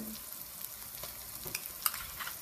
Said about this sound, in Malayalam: ഇനി ഇതിലേക്ക് നമ്മൾ ഇഞ്ചി പച്ചമുളക് വെളുത്തുള്ളി പേസ്റ്റ് അത് ഞാൻ മൊത്തമായിട്ട് ഇട്ട് കൊടുക്കുകയാണ്